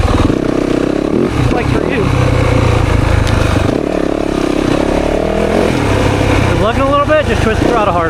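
A 2024 Yamaha YZ 450FX dirt bike on a woods ride, its engine loud and close, revving up and down with rising and falling pitch while a rider talks over it.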